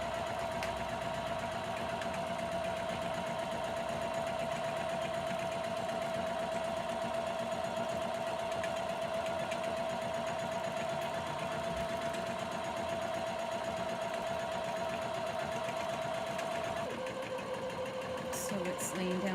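A Janome Memory Craft 230e embroidery machine stitches steadily, its close, even mechanical whir running without pause and dipping slightly in pitch near the end.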